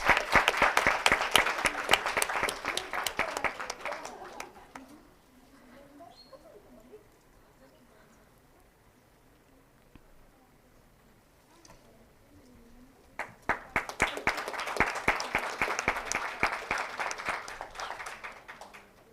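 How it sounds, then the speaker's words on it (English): Audience at a women's leadership conference and convocation claps in two bursts of dense, crackling applause, separated by a long quiet lull with faint room murmur before the clapping swells again. "Let's give a huge round of applause."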